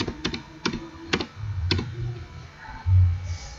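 Several sharp, separate key clicks from a laptop keyboard as shortcut keys are pressed, close and fairly crisp, with a low hum running underneath.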